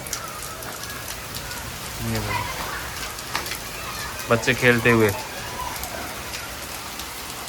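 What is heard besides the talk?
rain falling in Ganganagar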